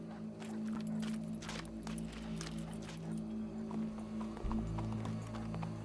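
Horse hooves clip-clop steadily in Red Dead Redemption 2, a continuous medium-loud stream of hoofbeats over a low ambient hum, with a brief whinny-like tone and no talk.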